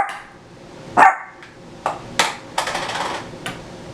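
A tiny three-pound dog barks in short, sharp yips, several separate barks spaced irregularly, fairly close and loud against a quiet indoor background.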